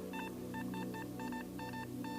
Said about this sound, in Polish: Jest w tym miejscu następny sygnał fajny.